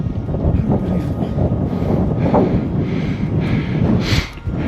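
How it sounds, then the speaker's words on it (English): Strong wind buffets the microphone high on a wintry Helvellyn summit, a continuous loud, gusty rumble and roar with no talking. "Very windy here and very wintry"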